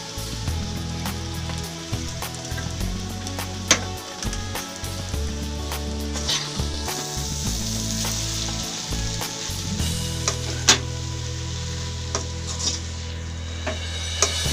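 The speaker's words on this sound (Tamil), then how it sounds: "இப்போ நல்லா ஃப்ரை ஆயிடுச்சு. நம்ம வேக வச்ச நூடுல்ஸை இதில் போட்டுக்கலாம்." Chicken noodles stir-fry in a hot pan with a steady, loud sizzle throughout, broken by the scrape and clatter of stirring and tossing; no one talks.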